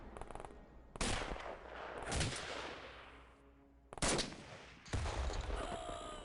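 Gunfire in the video game The Xcom Files, shots fired down a stairwell, comes as loud bursts of rapid automatic fire separated by short quieter gaps, with sharp reports and trailing echoes.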